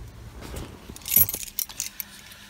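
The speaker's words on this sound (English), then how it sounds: "key's going to go in the ignition" Car keys jingling as the key slides into the ignition of a Fiat 500, a short bright metallic rattle up close, following some soft handling noises, with no talking.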